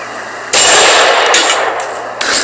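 A 5.7x28 round strikes a steel scraper shovel with a single loud, sharp metallic clang that rings on briefly, followed by a second smaller impact near the end.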